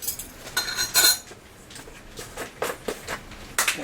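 Canned green beans with parsley tossed in a pan with metal utensils: a series of light clinks and scrapes in irregular clusters, fairly close and alone.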